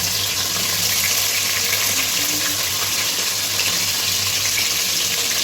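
Four onions hit hot oil in a pan and sizzle loudly and steadily, a dense continuous hiss with no break from start to finish.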